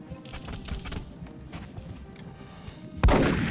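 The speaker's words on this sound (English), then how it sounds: "Shotgun to the face." A shotgun blast in the XCOM Long War game rings out with a sudden, loud, booming report near the end, following a stretch of low rumbling ambience and scattered thuds.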